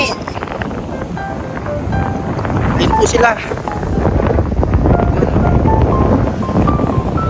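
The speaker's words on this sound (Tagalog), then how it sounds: "Ayun po, alon." Sea waves and wind at a beach, with gusty wind rumbling against the microphone and steady surf wash throughout, under excited voices of an adult and children calling out.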